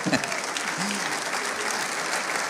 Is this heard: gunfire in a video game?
no